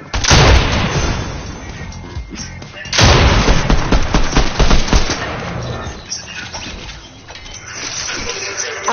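Video game gunfire, probably Fortnite, in a duos match: loud rapid bursts of automatic fire and booming shots in two heavy volleys, with fainter shooting trailing after.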